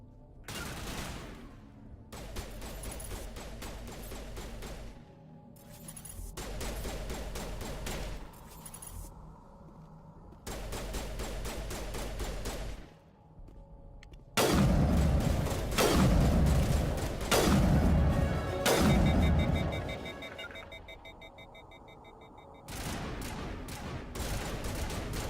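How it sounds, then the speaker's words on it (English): Grenade explosions and gunfire in the video game Mass Effect Legendary Edition: bursts of rapid weapon fire broken by short gaps, then heavier thumping blasts in the middle, loud and close, with no talking. "Yeah, that's a grenade."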